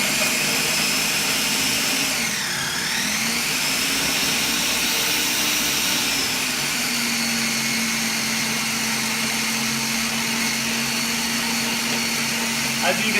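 A blender chopping carrots for curried carrot soup runs with a loud, steady whirring motor throughout, its pitch dipping briefly early on before settling into a constant drone.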